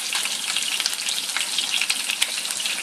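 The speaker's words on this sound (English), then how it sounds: "that's popping grease all over the stove" Pork chops fry in a hot pan on a stove, a dense, steady sizzle of grease with constant crackling and sharp pops scattered throughout, close and fairly loud with no talking.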